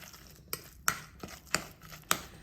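Dal vada batter being mixed with chili powder in a bowl, giving a few sharp, separate scraping knocks about half a second apart, close and fairly quiet with no talk.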